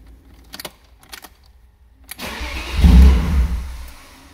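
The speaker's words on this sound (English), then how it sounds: "So let's fire her up. I mean, all you're going to hear is the leaking exhaust" BMW E36 with a leaking exhaust starting up: keys jangle, then the engine cranks and catches into a loud, rough, rumbling idle that swells and wavers close by.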